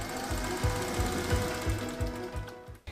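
A sewing machine runs a gathering stitch along the top of a shirt sleeve, a close, fast, regular mechanical chatter of needle strokes that stops abruptly at the end.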